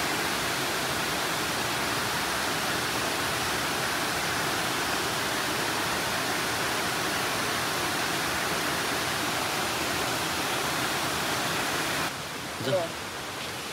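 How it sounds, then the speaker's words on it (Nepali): A waterfall in the Cameron Highlands, Malaysia, roaring as a steady, dense rush of falling water for about twelve seconds before it abruptly drops away and a brief voice is heard. "यहाँ चाहिँ पानी आइरहेको छ"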